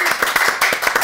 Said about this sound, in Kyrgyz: Бир кол чаап коелу.